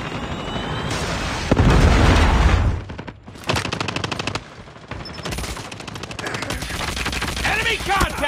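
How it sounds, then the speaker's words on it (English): Predator missile strike in Call of Duty Mobile at a firing range, heavy automatic gunfire and a booming blast amid loud battle noise, with game voice lines heard over the chaos. "Friendly Predator missile inbound."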